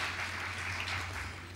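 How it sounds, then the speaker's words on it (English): Brief, soft applause rises from an audience at a mobile industry conference in Paris after a presentation, sounding distant and steady under a low hum. "Just a round of applause for Gwen."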